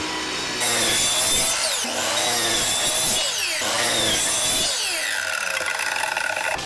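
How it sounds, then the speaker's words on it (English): A chop saw cuts thin pieces of decking wood in repeated passes: a loud, continuous motor whine with rising and falling pitch as the blade bites through each piece, close up and alone. "used this setup on my chop saw to repeat the pattern"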